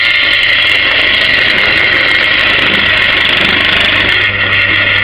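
A drill fitted with a Conecut cutter boring a hole in wood runs as a loud, steady, continuous whine and rumble from start to finish, with no talking.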